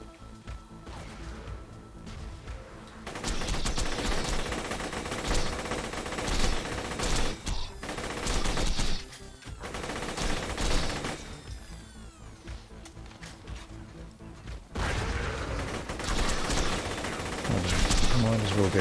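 Assault rifle fire from the video game Borderlands, playing as Zer0, comes in long dense bursts with crashes and impacts mixed in, separated by brief lulls, with a voice speaking at times.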